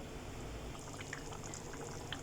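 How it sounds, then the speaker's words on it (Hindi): Paneer lababdar gravy begins to boil in a pan, giving a steady low simmer with small scattered bubbling pops, close and fairly quiet, with no talking. "अब ये बॉईल होना शुरू हो गया"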